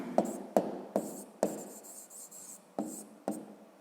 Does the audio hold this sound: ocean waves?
no